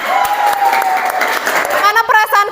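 Students clap their hands in a classroom clapping game, with bursts of group clapping mixed with voices chanting and calling out, loud and close.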